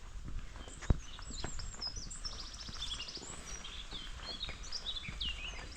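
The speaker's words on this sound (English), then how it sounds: "All that bird song." Birdsong chirps and twitters through countryside on a hike near London, scattered calls over footsteps and a sharp knock near the start, with no talking.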